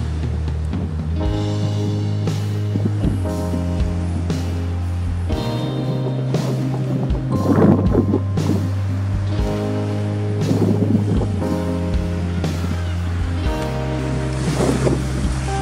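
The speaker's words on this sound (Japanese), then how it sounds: "今ややしっかりとオフショアが吹いてますね" Offshore wind blowing across a flat, lake-like sea at a surf point, heard as steady buffeting rush with a low continuous drone beneath and a few stronger gusts.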